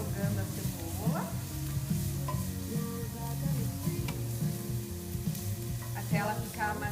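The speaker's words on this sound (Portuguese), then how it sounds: "Então aqui eu tô refogando a cebola" Red onion sautéing in a thin drizzle of olive oil for black rice mushroom risotto gives a steady soft sizzle with occasional stirring scrapes, close and low, while a voice talks over it.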